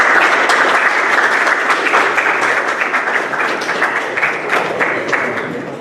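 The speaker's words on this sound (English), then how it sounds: "Players, please give your support system here a round of applause and or a hug" Loud, sustained applause from a crowd at a boys varsity soccer banquet, dense clapping that stays strong throughout and tapers only slightly toward the end.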